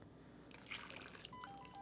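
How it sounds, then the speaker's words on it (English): Hot cream is poured over melted chocolate for truffles, giving a faint, soft liquid trickle with small wet drips and squishes over about two seconds, with no talking. "we're going to pour the hot cream"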